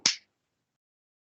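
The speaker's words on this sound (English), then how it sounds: "Clap the chi ball away." A single sharp hand clap rings out once, crisp and close, then silence follows.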